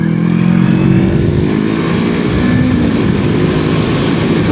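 Honda CBR500R 2019 sport motorcycle accelerating on the road, a loud sustained engine drone rising in pitch, close and steady with wind rush over it, no talking.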